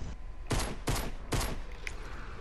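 Video game gunfire aimed at anomalies: three sharp, evenly spaced shots with a booming tail, then a faint click, over steady background game noise.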